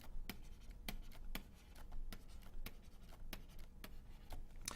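A pen or marker writes out by hand, giving faint, close scratchy strokes with regular sharp ticks of the tip meeting the surface, and no voices.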